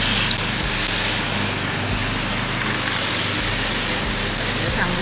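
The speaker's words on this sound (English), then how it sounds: "Vino is coming with the regular lawnmower under the trailer" A regular lawnmower drones steadily nearby with a constant low engine rumble and broad hiss, faint periodic dips in the hum, and no clear speech over it.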